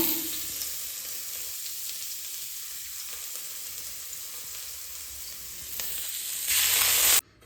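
Batter sizzles and crackles steadily in a hot pan, a close, continuous hiss that swells louder near the end before cutting off.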